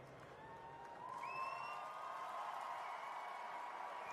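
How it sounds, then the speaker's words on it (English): A Formula 1 grandstand crowd cheers in a distant, sustained roar with scattered whoops rising over it, swelling slightly louder after the first second and holding steady. "And we can really hear every single cry of the grandstand."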